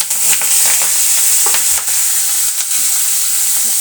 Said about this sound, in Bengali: অল্প অল্প করে একটু লাল লাল করে ভেজে নেবো মাছটা।